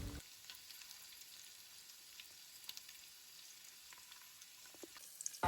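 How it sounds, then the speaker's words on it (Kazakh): Onion, carrot, potato and pumpkin fry in a pan with a pinch of salt for a pumpkin soup. The sizzle is soft, steady and continuous, with a few faint stirring clicks and no voices. "жақсылап қуырамыз."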